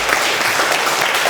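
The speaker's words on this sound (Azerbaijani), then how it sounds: "Bir öz-özünüzü alqışlayın" A studio audience at a comedy talk show applauds loudly and continuously, the dense clapping filling the whole short moment with no voices on top.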